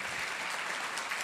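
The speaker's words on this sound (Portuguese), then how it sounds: "Aplauda mais forte ao Senhor." A church congregation applauds together, a steady dense wash of clapping that holds evenly from start to finish with no voices rising above it.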